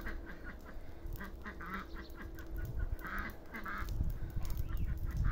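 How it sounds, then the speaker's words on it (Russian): Geese honking in short repeated bursts near a smoky bonfire of burning leaves in a rural yard, moderately close and fairly quiet, with crackling background noise and no speech. "Вон гуси пошли куда-то."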